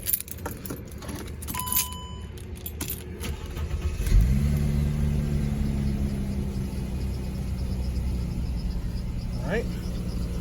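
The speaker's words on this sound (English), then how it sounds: "First step is turn the vehicle on." A vehicle engine starts partway through and settles into a steady idle, preceded by keys jangling and small interior handling noises, heard up close from inside the car.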